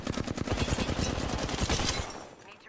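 Rapid automatic gunfire in Apex Legends, a fast stream of close, punchy shots fired continuously for a couple of seconds before trailing off.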